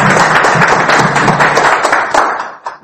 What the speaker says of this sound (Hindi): एक जोरदार तालियां खुद के लिए सबसे पहले।